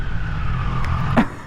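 A 2024 Triumph Daytona 660 motorcycle with radially mounted four-piston brake calipers, ABS and traction control stops suddenly. A steady engine drone runs throughout, then a brief high squeal rises near the end as it halts.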